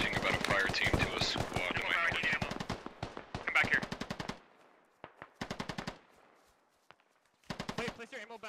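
In the military shooter Squad, rapid machine-gun bursts rattle close and loud in several long strings separated by short pauses, with faint voices in between.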